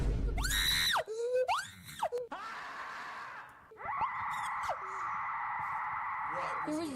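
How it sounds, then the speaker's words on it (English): Screams from a video game mod ring out one after another, shrill and sustained with rising and falling pitch, loud and echoing, ending in a long drawn-out wail. "but I heard screaming"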